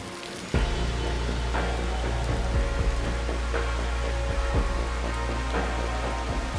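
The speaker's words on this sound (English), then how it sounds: "In tropical Singapore, it usually rains every few days." Steady tropical rain falls in Singapore, a dense constant hiss of drops on surfaces that starts abruptly and continues evenly throughout with scattered louder patters.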